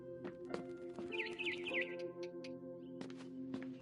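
Barn swallow chirping in What Remains of Edith Finch, a short run of bright twittering calls over a steady low hum and a few soft knocks.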